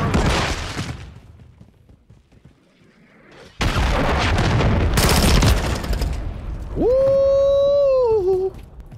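A frag grenade explodes with a loud blast, followed by rapid gunfire in a Call of Duty: Modern Warfare 3 match. A brief quiet gap comes before a sustained burst, then a rising tonal in-game sound. Some voice is heard.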